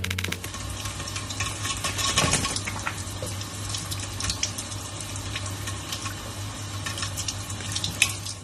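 A steady, close rush of running water sprays like a shower and keeps a constant hiss throughout, with faint splashes and a low hum underneath.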